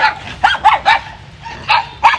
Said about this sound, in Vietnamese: Ủa con chó nào nó đẻ vậy Trạch?